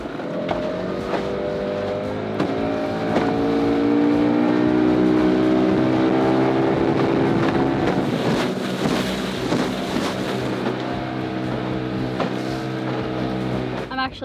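A small 15-horsepower outboard motor on a dinghy drones steadily throughout with rushing wind buffeting the microphone and water noise around it.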